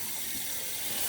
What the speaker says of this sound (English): my tap is on high right now.